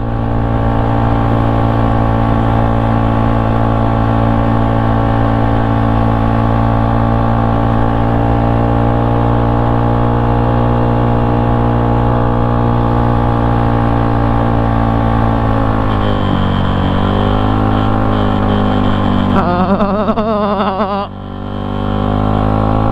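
A Yamaha Mio motorcycle engine drones steadily and loudly close up, its pitch wavering near the end as the ride gets bumpier on a rough road.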